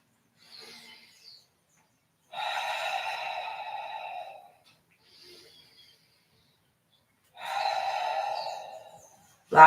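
Two long, loud exhalations during a Pilates exercise, each lasting about two seconds, with fainter breaths between them, heard alone with no talking.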